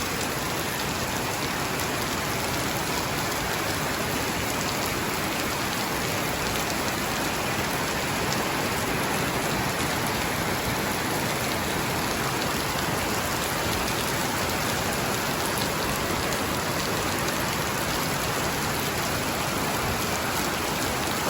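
Heavy rain pours down steadily after a four-to-five-month dry, hot season, a dense, unbroken hiss of drops on surfaces that stays loud and constant throughout with no voices.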